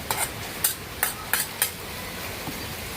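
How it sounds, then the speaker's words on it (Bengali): A spoon stirs spice paste frying in a pot for a Bengali fish curry with tilapia and taro stems, making a few sharp scraping knocks about half a second apart over a soft steady sizzle. "এবার নাড়া দাও ভালো করে।"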